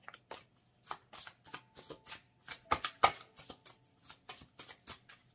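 Tarot cards shuffled and cut by hand: a quick run of crisp, papery riffles and slaps in irregular bursts, close and fairly quiet, with no talking.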